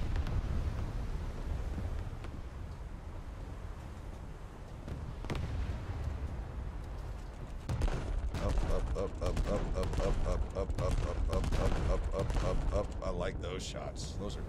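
Naval gunfire from a battleship in a game, heavy booming shots and impacts rolling together into a dense, continuous barrage, with a sharp single blast partway through and a rapid flurry of hits near the end, loud and under talk.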